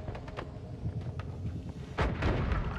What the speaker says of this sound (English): So we'll drop a bomb here.